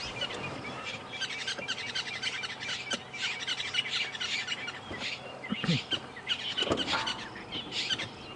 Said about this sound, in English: Boy, these weaver birds are pretty noisy. These are red-billed buffalo weavers.